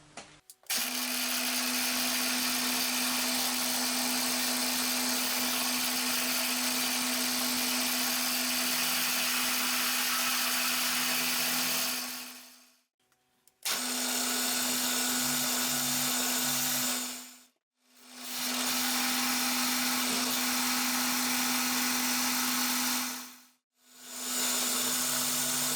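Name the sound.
milling machine cutting a small flat on a steel part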